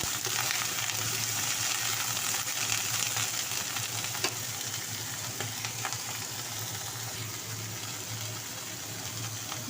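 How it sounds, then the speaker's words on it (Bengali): Broccoli frying in a pan with a little salt gives a continuous, fairly loud crackling sizzle that holds steady for nearly ten seconds, with faint stirring ticks and no voices. "আমি প্রথমে এটা হালকা অল্প লবণ দিয়ে ভেজে নিচ্ছি"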